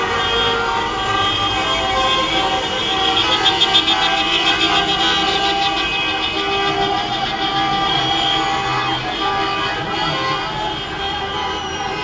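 Steady road traffic rumbles at Sulu Kavşak junction in Northern Cyprus, a continuous dense wash of passing vehicles with engine drone and hiss and a sustained horn-like tone, loud and close, with no talking.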